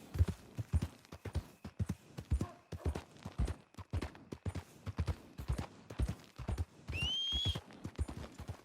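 Horse hoofbeats in the video game Red Dead Redemption 2: a steady, galloping clip-clop rhythm close up, with a short high whinny-like call partway through.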